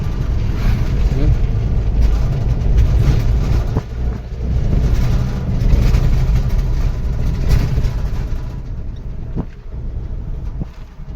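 A small vehicle's engine drones steadily while it is driven, with a loud, close, low rumble of engine and road noise that dips briefly now and then.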